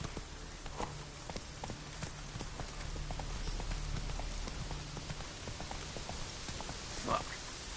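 Hooves of Roach, a horse in a video game, clop at a steady walking rhythm over a soft bed of rain, fairly faint and close, with one louder knock near the end.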